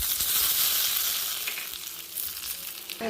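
Hot mustard seed tempering poured into an okra buttermilk curry, a bright sustained sizzle with crackling pops that settles slightly, heard close and alone.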